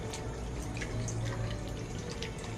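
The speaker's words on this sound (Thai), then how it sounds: "แล้วก็ตามด้วยน้ำเปล่า" Plain water poured into a soy sauce and pepper marinade for pork, a continuous close trickling and splashing stream with faint drips over a low background hum.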